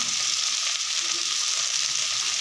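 Ginger and garlic, joined by a spoonful of turmeric powder, sizzle steadily and close up in a pan, a constant, even frying hiss throughout.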